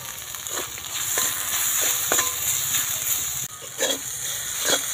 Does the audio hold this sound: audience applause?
no